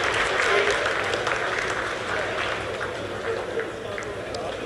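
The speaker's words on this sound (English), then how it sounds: "आप तालियों के गड़गड़ाहट से सुन सकते हैं" Applause and cheering ripple through the mission control room during the Chandrayaan-3 lunar landing's vertical descent, a steady wash of clapping with murmuring voices mixed in throughout.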